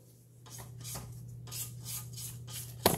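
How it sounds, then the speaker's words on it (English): A spatula scrapes repeatedly around the sides of a bowl of pound cake batter, a series of soft, rhythmic rasping strokes over a low steady hum, close and quiet, ending with a brief sharp knock. "let me scrape down my sides of my bowl"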